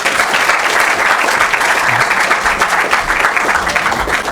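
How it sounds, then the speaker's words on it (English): An audience at a school quiz competition applauding the contestants, a dense, steady roar of clapping throughout, loud and continuous. "a round of applause for them"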